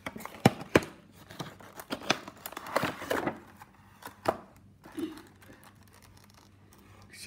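A Herpa Boeing 777 model plane is unboxed from its box with scattered crinkles, scrapes and taps of cardboard and packaging, close and uneven, with quiet gaps between handling sounds.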